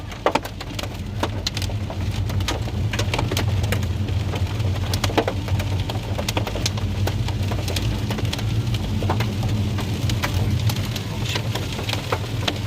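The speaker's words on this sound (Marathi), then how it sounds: "एवढ्या मोठ्या प्रमाणात गारा पडत आहेत" Hail falling on the Dhoki road between Dharashiv and Latur during an unseasonal hailstorm, a dense, steady patter of hailstones and rain hitting the ground, with sharp louder clicks scattered throughout and a low rumble beneath.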